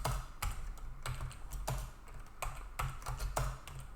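Steady, close clicking of a computer keyboard as code is typed, with evenly spaced keystrokes over a faint background hum and no voices.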